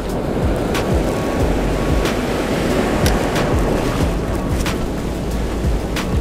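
Ocean surf breaks steadily on a beach at dawn under a full moon as the tide comes in, a continuous near wash of waves with faint wind noise and no talking.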